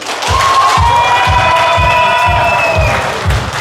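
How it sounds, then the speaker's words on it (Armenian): Wedding guests on the groom's side clap together in a loud, rhythmic beat, roughly two claps per second, with cheering and shouted voices over the top. "Փեսայի կողմն է ծափեր տալիս։"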